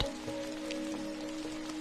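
Steady rain falling in a garden, a dense patter of drops on surfaces over a faint sustained tonal hum, with no talking.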